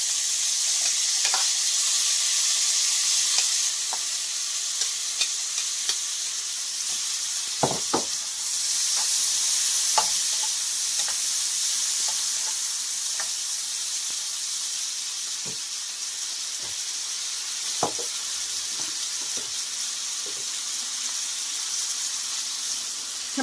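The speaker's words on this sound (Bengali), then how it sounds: "এখন আমি এখানে 2টা পেঁয়াজ, 4-5টা রসুন কুচিয়ে নিয়েছি, তেজপাতা, লং, এলাচ, দারচিনি, এগুলো আমি সব ভেজে নেব।" Chopped onion, garlic, bay leaf, cloves, cardamom and cinnamon frying in oil, giving a continuous close, bright sizzle with occasional sharp taps and clicks of a spatula against the pan.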